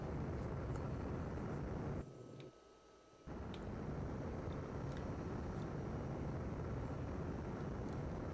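Jet aircraft in the Amiga flight combat game F/A-18 Interceptor produce a steady, fairly quiet engine roar that cuts out briefly for about a second before resuming, with faint clicks on top.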